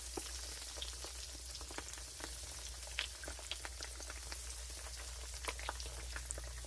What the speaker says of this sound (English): while this is frying, it'll fry about 2 or 3 minutes per side